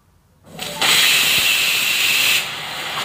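A pressure cooker whistle lets out a loud, steady hiss of escaping steam for a couple of seconds, then eases slightly, while dal, rice and vegetables cook together.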